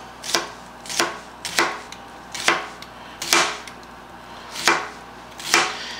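A knife slicing up an onion on a board: about eight crisp, evenly spaced chops close by, each with a short ringing tail, with no voices.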